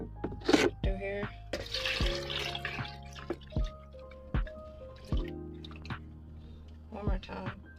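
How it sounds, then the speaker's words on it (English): Green juice is poured through a strainer in a kitchen, giving close, soft drips and splashes with scattered wet plops and trickles over several seconds, alongside some clinking and handling noises. "We're going to strain it one more time through here. I'm going to pour it through here."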